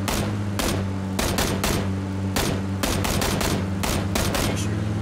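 Rapid, loud gunfire in PUBG, a dense series of sharp shots in quick bursts and single cracks over a steady low hum.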